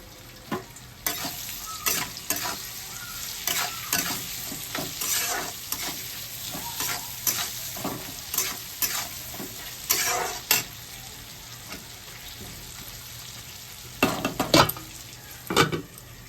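Sliced onions frying in a pan right after a bitter gourd fry produce a steady close sizzle, with irregular scraping stirs and utensil knocks that bunch up near the end. No voices.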